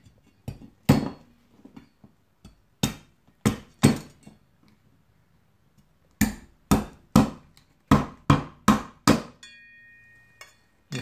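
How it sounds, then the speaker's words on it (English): A king crab shell is smashed with the back of a butcher knife, making sharp cracking thwacks in irregular clusters, about a dozen hits with short gaps between them. "Smash at the back of the butcher knife."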